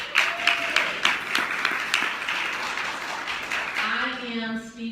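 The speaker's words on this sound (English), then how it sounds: "Let's give that a round of applause." Applause from an audience at a Kansas City Coalition for Digital Inclusion community meeting: steady clapping at moderate level for about four seconds, thinning out at the end as a voice starts up.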